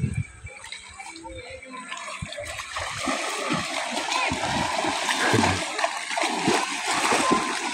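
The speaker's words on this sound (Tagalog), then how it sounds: "Langoy ng langoy. Sa swimming pool." Splashing water in a swimming pool as someone swims, a steady churn of splashes building louder toward the end, with voices talking nearby.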